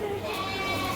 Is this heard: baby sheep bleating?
yes